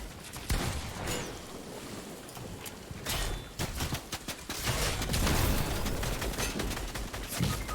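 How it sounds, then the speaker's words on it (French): Gunfire from two opposing squads in Fortnite, sharp shots and bursts crackling irregularly over a few seconds, some near and loud, others more distant, with a dense rattling stretch near the end. "Deux teams qui me tirent dessus là."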